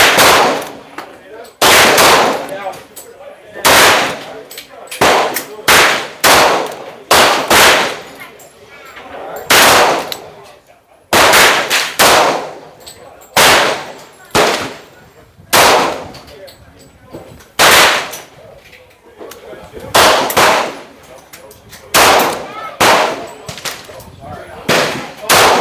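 Rapid bursts of gunfire from a Smith & Wesson 4043 TSW pistol being emptied in a mag dump, loud close shots in quick clusters with brief pauses, some talk faintly between volleys.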